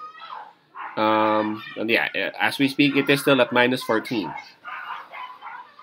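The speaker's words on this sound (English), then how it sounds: "Sorry for the noise. There are a lot of dogs." Dogs bark outside while someone speaks over them. One drawn-out, tonal bark or howl stands out early, and fainter barking carries on underneath the talk.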